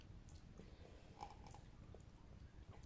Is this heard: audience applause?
no